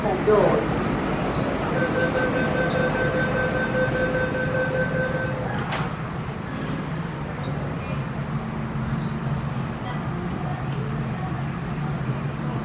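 A shuttle train pulls out of LOHAS Park station, with a steady mechanical rumble and a sustained tonal motor whine that shifts lower as it departs.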